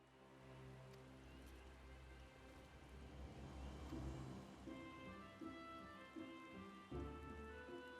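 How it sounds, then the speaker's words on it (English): Rain falls in Gridania in the video game Final Fantasy XIV, a soft steady patter heard under a layer of sustained ambient game music, with no voices. "The beautiful rain in Gridania is so lovely."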